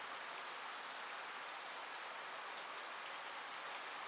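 Steady rain pours down outside Sugamo Prison in a dense, unbroken hiss that stays even and continuous throughout, with no voices.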